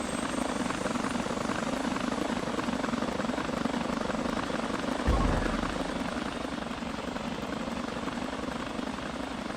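A police helicopter in GTA 5, from a British police mod, holds a steady rotor drone that fills the whole stretch at constant loudness, with a brief low thump partway through and no talk.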